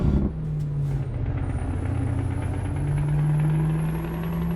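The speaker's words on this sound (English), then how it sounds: "Oh, listen to that engine." A Scania truck engine in Euro Truck Simulator 2 drones steadily up close, a low idling rumble with a brief air-brake hiss at the start and a thin whine running above.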